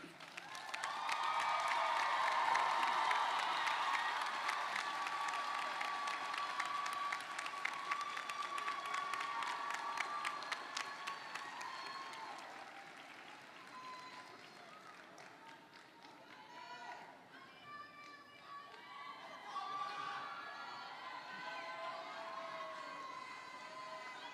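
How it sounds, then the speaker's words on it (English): A graduation ceremony audience for health sciences, human services and nursing graduates breaks into sustained applause with some cheers, strong at first and then thinning to scattered clapping and crowd murmur. "give them an applause for being there as your support"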